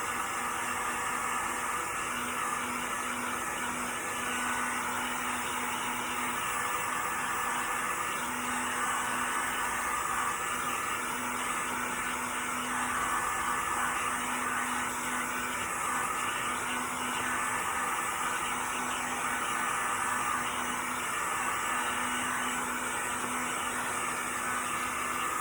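A blower or hair dryer runs steadily with a constant airy roar and a faint hum while drying a DIY farmhouse tray. The sound stays unbroken and even for the whole stretch, and no one talks.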